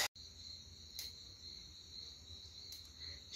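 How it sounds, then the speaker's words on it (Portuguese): Crickets chirp in the late afternoon as a faint, steady high-pitched trill with brief louder pulses, heard alone over a quiet background. "depois das 4 da tarde, aí os grilos, os bichos começam a cri, cri, cri, cri, cri."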